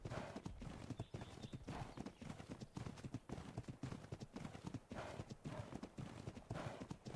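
Horse hooves clip-clop in the video game ARK: Valguero, a brisk, steady rhythm of close, loud hoof strikes continuing throughout, with faint game ambience beneath.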